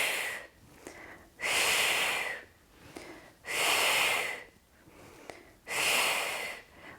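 Three long, forceful exhalations during a Pilates mat workout, each a breathy rush of air lasting about a second, spaced evenly with quieter pauses between.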